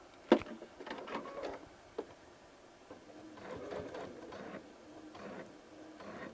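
Brother DreamWeaver XE sewing machine stitching binding with a zigzag stitch, heard as faint, irregular mechanical whirring bursts that slow and speed up, with short pauses between runs and a sharp click near the start.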